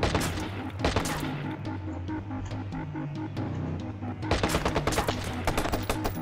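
Rapid bursts of automatic gunfire in the video game Watch Dogs, dense cracking volleys over a busy game soundtrack, dipping briefly mid-way and then intensifying again near the end.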